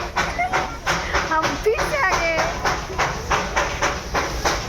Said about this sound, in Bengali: আর এই যে পিছনে পিছনে আরেকটা স্টিম ইঞ্জিন ছেড়ে যাচ্ছে